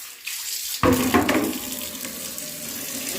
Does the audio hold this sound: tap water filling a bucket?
yes